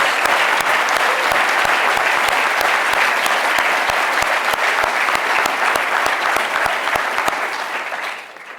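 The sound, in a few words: applause for Tom Bizzuto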